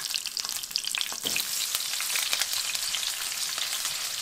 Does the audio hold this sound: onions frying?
yes